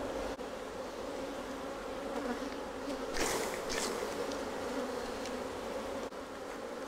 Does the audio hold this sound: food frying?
no